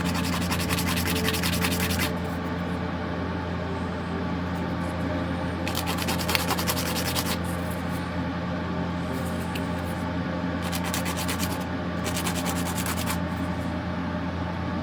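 Close, rhythmic sanding of the small plastic light on a Revell model of the research vessel Calypso, with bursts of light scratchy rubbing that alternate with pauses over a steady background hum.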